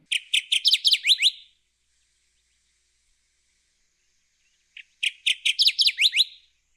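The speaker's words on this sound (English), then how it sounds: "Let's play a recording of the Kirtland's warbler." A Kirtland's warbler sings two loud, clear bursts of rapid chirpy notes that speed up and rise, separated by a few seconds of silence, heard alone and close.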